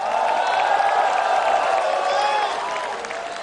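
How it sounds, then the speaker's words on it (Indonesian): Crowd applause and cheering at an Indonesian political coalition event, a dense steady roar of clapping and voices that stays loud throughout and eases slightly toward the end. "Tepuk tangannya dahsyat penuh rasa cinta."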